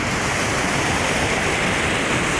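Rushing floodwater during flash flooding in Invergowrie pours in a loud, unbroken broadband roar, close by and steady throughout with no voices.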